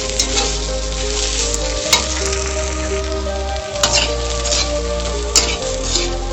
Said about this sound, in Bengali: জল না শুকাবে ততক্ষণ কিন্তু এভাবে নাড়তে থাকবো, নয়তো তলাটা জোরে পুড়ে যাবে